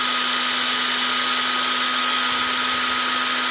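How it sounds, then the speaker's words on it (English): Bore polishing flap wheel grinding the rough stamped bores of a Hurst shifter: a steady, loud, continuous whine with a constant high-pitched tone and no pauses. "I use a bore polishing wheel. Some people call them flap wheels."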